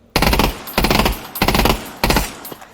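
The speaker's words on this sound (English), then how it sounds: "I'm just immediately shooting" Rapid bursts of gunfire from an AK or Glock in the Pavlov VR shooting game, four loud, close bursts separated by short pauses while the shooter resets.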